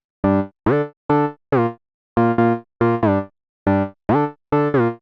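Mono gliding synth pluck through an MG Low 18 filter with cutoff at 381 Hz, heard alone as a loud series of short bouncy notes in a stepping rhythm, some paired closely, with clean gaps between them.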